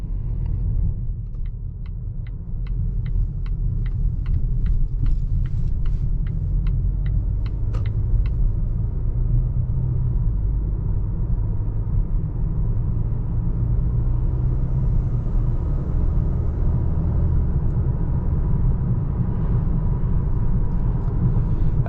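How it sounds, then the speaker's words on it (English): Steady, loud low rumble of road and engine noise inside a 2021 Volvo XC40 Inscription on 20-inch wheels, with a brief ticking sound early on and no talking. "As in traditional fashion with these Volvos, you get a lot of turbo noise, which is pretty awesome."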